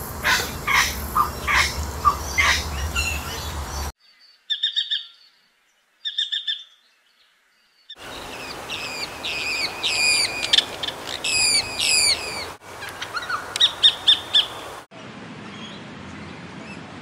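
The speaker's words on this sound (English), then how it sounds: "Look at this little wild bird." A wild bird calls at a lake in repeated short bursts of high chirps, broken by brief pauses. The calls are clear and fairly close, with no talking.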